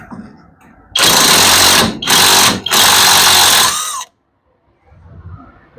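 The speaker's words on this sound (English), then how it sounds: "My trusty rattle gun for that." A pneumatic impact wrench rattles loudly up close as it removes steering arm bolts from an MG Midget's front suspension, firing in three rapid bursts with short gaps between them before stopping, followed by quiet shop noise.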